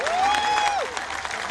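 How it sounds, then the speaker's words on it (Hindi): Crowd applause at a state foundation day cultural festival welcoming performing artists, a full wash of many clapping hands with a loud tone sliding through it, then fading slightly toward the end. "दोनों हाथ ऊपर उठाकर तालियां बजा के स्वागत कीजिए"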